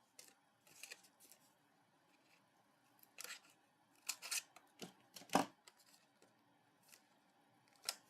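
Scissors cut lengths of craft twine at a card-making desk, giving a series of short, crisp snips of varying loudness, with one sharper cut standing out, in a quiet room with no talking.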